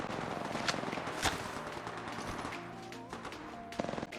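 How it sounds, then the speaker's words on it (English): Gunfire in the mobile battle royale game Apex Legends, with repeated shots and bursts crackling steadily through a dense mix of game sounds, some sharp reports standing out louder against the continuous background. "So at this point I could hear loads of gunshots, but I couldn't see anybody."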